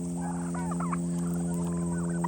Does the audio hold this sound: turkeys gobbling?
yes